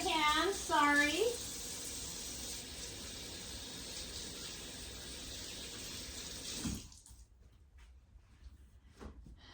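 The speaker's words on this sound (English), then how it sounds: "Let me wash my hands, sorry." A kitchen tap runs steadily while hands are washed beneath it for several seconds, then the water shuts off, leaving a few faint clicks and handling noises.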